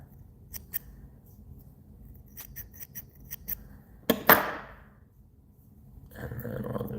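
Scissors trim fly tying material to make a tie-in point, a few quiet close snips followed by a sharper, brighter cut.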